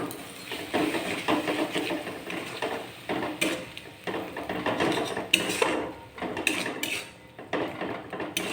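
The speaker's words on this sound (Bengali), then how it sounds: "যতক্ষণ না মশলা থেকে তেল না ছাড়ছে ততক্ষণ মশলাটিকে ভালোভাবে কষিয়ে নেব" Spiced masala with a splash of tomato paste water is stirred and fried in a pan for potato and pea curry. A spatula scrapes and clinks against the metal in steady, close strokes over a low sizzle.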